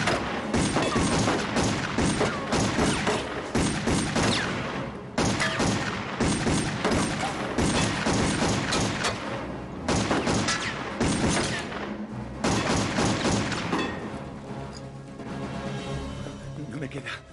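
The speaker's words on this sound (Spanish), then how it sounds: "¡no dispare en esta dirección!" Bursts of gunfire crackle through a film action scene from 2000 in rapid fusillades, loud and dense, broken by brief pauses, with voices talking between the volleys.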